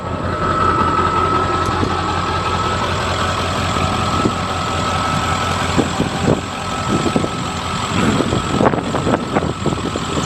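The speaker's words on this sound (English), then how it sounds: "Running driving truck." A 1995 Ford F350 Super Duty XLT pickup engine runs steadily up close, a loud, continuous low rumble with some uneven knocks and rattles toward the end.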